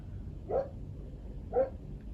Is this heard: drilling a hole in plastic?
no